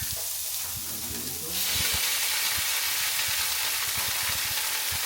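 Big ham slices searing in a pan for a Cuban-style sandwich, a steady close sizzle that swells louder partway through, with soft clicks and scrapes of stirring underneath.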